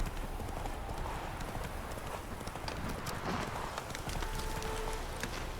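Steady clip-clop of a horse's hooves as it is ridden across rough terrain in The Witcher 3, a continuous running rhythm over a dense, noisy background with a faint voice now and then.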